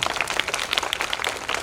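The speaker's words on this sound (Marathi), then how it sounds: "त्या सगळ्यांसाठी एकदा जोरदार टाळ्या होत्या" A crowd applauds children who spoke on a stage, a short burst of dense, steady hand clapping at moderate volume.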